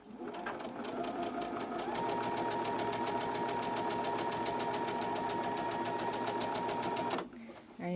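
A sewing machine runs steadily for about seven seconds, stitching pinned fabric pieces of a barn quilt block, a fast even whirring rhythm that stops abruptly near the end.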